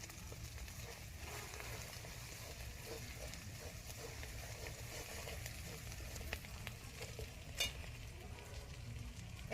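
Turmeric, chilli powder, salt and ground spices cooking down with a splash of water for a cabbage curry with fish head, a low, even bubbling sizzle throughout with a few faint utensil scrapes, no talking.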